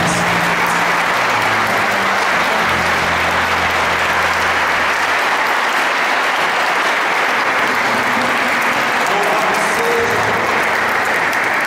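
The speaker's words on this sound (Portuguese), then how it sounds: "pode dar uma grande salva de palmas" A congregation at a Catholic Charismatic Renewal revival gathering gives a long, loud round of applause, a thick continuous roar of clapping hands with faint crowd murmur underneath.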